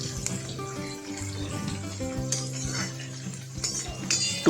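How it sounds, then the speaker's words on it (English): Long sliced onions sautéing in a pan on medium heat, a soft sizzle with light stirring and clinks of a utensil against the pan, with a steady tonal hum underneath. "Saute on medium heat for about 4 to 5 minutes until the onions turn"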